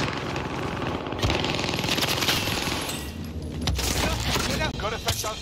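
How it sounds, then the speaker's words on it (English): A precision airstrike in a shooter video game, a dense rattling barrage of rapid impacts and blasts that rolls on continuously, loud and close, with voices calling out over the din. "Precision airstrikes!"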